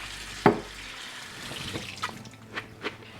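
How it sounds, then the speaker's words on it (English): Cold tap water runs into a glass jar of beans as they are rinsed, starting with a sharp clink followed by soft trickling and light sloshing, close and fairly quiet. "And then just with some cold tap water, rinse the jar"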